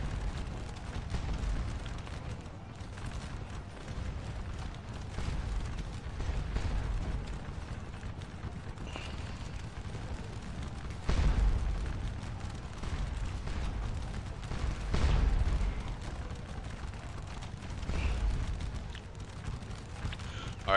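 Line infantry musket volleys in Scourge of War Waterloo sound as distant, muffled booming rumbles every few seconds over a low battlefield murmur.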